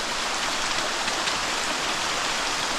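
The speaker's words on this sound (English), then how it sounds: "First real river crossing here." River water rushing steadily over mossy rocks at a creek crossing in the Wilson Creek Wilderness, a loud, continuous broadband wash filling the whole moment with no voices.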